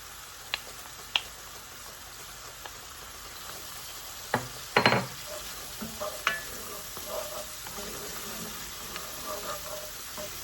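Chopped garlic cloves sizzle with softened onion in a pan over medium-high heat, a steady hiss broken by sharp scraping stirs and a few louder clicks and bursts.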